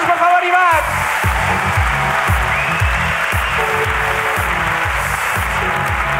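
Live audience applause for the winner at a Spanish comedy podcast taping, a loud broad wash of clapping over a rhythmic, pulsing music bed, with a voice calling out at the start.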